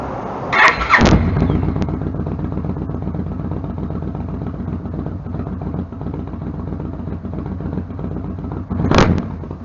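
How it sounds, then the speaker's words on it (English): A motorbike engine cranks and catches with a sharp burst, then settles into a steady, close rumbling idle, with another brief throttle surge near the end and no speech. "I'm just gonna turn this bike on and take it down the road"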